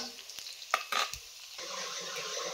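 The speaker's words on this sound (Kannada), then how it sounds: "ಇದು ಸ್ವಲ್ಪ ಫ್ರೈ ಆದರೆ ಸಾಕು" Chicken frying in a pan for a dry chicken dish, a soft continuous sizzle with a few brief stirring scrapes and clacks near the start before the sizzle settles in, fairly quiet and with no talking.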